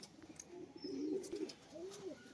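A big-sized domestic pigeon kept for sale coos in a low, throaty rolling call, repeated twice in soft, close phrases with faint background noise.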